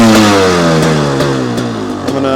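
A 2022 Beta 300 Race Edition motorcycle idles in first gear with the clutch pulled in, a close, loud, steady two-stroke engine drone with slight wavering pitch and light clatter.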